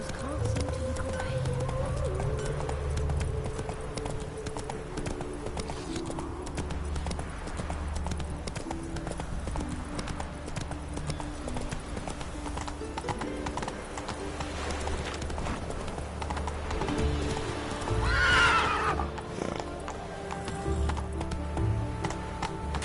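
Roach, the horse in The Witcher 3 video game, clip-clops at a steady gallop under game music and ambience for the whole stretch, with a brief whinny near the end.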